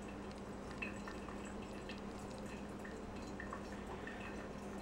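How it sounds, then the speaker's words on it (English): Water pouring steadily into a Bee House ceramic pour-over coffee brewer, filling toward the top during the main pour; a continuous soft trickle and splash runs throughout with no talking. "For this pour, we're going to go up to about 380 grams, or just about to the top of the brewer."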